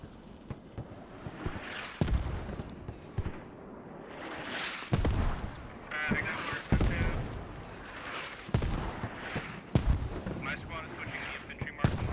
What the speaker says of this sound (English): Oh, those are really accurate mortars right on the objective.